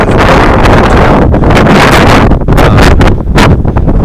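Loud, constant wind buffeting the microphone outdoors near caves at Little Hot Creek, roaring rumble with gusty surges throughout and no voices.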